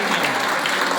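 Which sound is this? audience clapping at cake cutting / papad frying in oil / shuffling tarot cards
audience clapping at cake cutting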